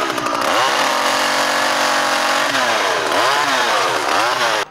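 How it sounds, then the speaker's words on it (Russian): A petrol chainsaw cuts poplar trees in a residential courtyard in Novotutino, a loud, close, continuous engine whine that rises and dips in pitch as the blade bites into the wood, then cuts off abruptly at the end. "с помощью бензопилы кранирует тополя в своем дворе Новотутино"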